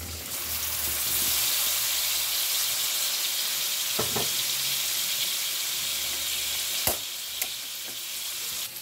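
Pork sizzles and fries steadily in a pan with fried garlic, a loud continuous hiss with a few sharper crackles and stirring scrapes near the middle and end.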